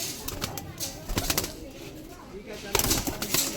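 Caged pigeons with clipped wings, flapping and shuffling in short bursts with soft calls, close by, under a voice speaking Bengali.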